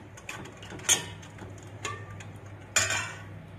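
Spoon stirring yogurt batter for punugulu in a bowl, a few sharp scrapes and clinks spaced out over a quiet low hum, fairly close and moderately loud.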